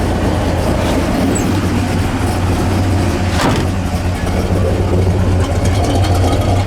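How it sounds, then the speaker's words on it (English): A 1970 Pontiac GTO Judge engine idling, a loud, steady, deep rumble that holds an even beat for several seconds with no talking. "This car's been idling here about 15 minutes. It hasn't missed a beat. No, it idles nice, sounds good."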